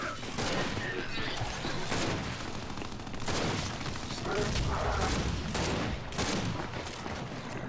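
Shotgun blasts in a Gears of War ranked Team Deathmatch match, a rapid run of loud booming shots repeating every second or so over continuous in-game battle noise.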